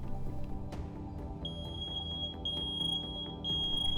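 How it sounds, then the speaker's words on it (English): A fire alarm under test sounds as a piercing high electronic beep repeating in long regular pulses, loud and close, over a low background hum. "the fire alarms, which is a vital thing. We have one in every room. So if we do a little test here,"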